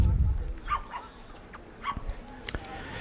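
At an all-breed championship dog show, a Rough Collie gives a few short, sharp barks and yips over low arena rumble and a commentator's voice.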